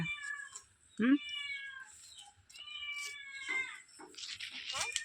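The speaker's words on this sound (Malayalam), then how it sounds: "பூச்சை கத்துனாண்டா" A cat meows repeatedly at close range, several drawn-out calls spread across a few seconds, with birds chirping and faint sounds around it.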